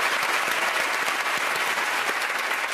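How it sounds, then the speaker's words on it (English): Studio audience applause on a comedy panel game show, a dense, steady wash of clapping at close range that fills the whole moment without any voices over it. "Give him a round of applause."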